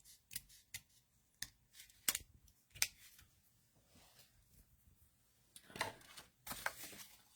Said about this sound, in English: let's give this a little bit of a trim